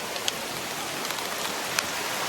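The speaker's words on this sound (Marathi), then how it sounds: "आणि पाऊस आलेला, आणि पाऊस लिटरली खूप मजा दाखवतोय." Steady rain hisses evenly throughout on a trek to Devkund Waterfall, with a few sharper drops tapping close by over the constant wash.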